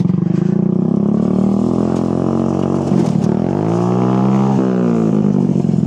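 A small go-kart engine on a student-built kart runs loud and close during a test ride, its note rising and falling as the throttle opens and eases.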